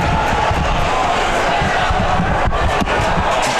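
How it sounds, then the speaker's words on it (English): A large, dense basketball arena crowd at an Oregon vs Colorado game in Eugene roars continuously and loudly throughout, a thick wash of cheering and shouting with no breaks. "I think this is probably our biggest Saturday night crowd of the year"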